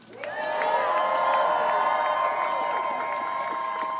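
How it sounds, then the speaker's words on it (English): Crowd at a rally in support of striking New York City Starbucks workers, with loud sustained cheering, whooping and clapping that swells quickly and holds steady throughout, full and close. "if we can first have a round of applause for the Starbucks workers themselves"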